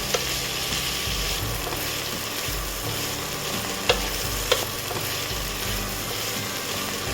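Spiny gourd slices frying in oil in a pan, a steady close sizzle with occasional stirring scrapes and a few sharp utensil knocks against the pan, no voices.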